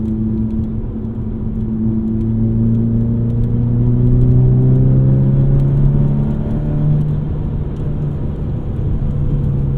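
A modified 2018 VW Golf GTI engine accelerates steadily, its droning aftermarket exhaust note climbing in pitch with a faint turbo whir through the intake, loud and close.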